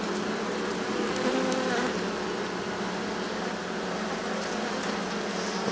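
An angry honey bee buzzes steadily and close during a beehive inspection, a continuous droning hum with no pause.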